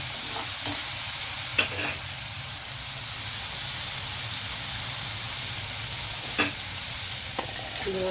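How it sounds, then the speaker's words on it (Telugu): Capsicum fries in a mixed vegetable fry, a soft continuous sizzle with a few faint scraping stirs of a spoon, close and steady with no voices. "ఇప్పుడు ఇందులో మనం క్యాప్సికం వేసేద్దామండి"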